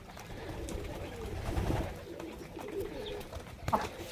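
Pigeons coo softly among a farmyard flock with a French rooster and hens, low murmuring calls over scattered rustling and a brief sharp knock near the end.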